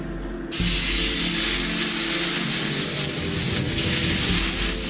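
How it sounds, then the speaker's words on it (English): Seasoned meat hitting a hot skillet and breaking into a loud, steady sizzle of crackling hiss that holds strongly throughout. "We're searing it."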